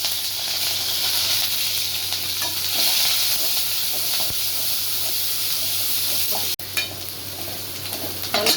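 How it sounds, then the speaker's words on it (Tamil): Cumin, shallots, green chili and curry leaves fry in hot oil for a brinjal and tomato dish, a loud continuous hissing sizzle with a brief sharp break followed by renewed spitting and crackling. "எண்ணெய் ஊற்றி கறி போட்டுக்கலாம் சீரகம் போட்டுக்கலாம் சின்ன வெங்காயமும் பச்சை மிளகா கருவேப்பிலை"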